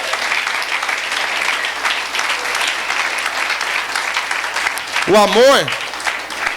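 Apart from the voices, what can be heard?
audience applause at church winter camp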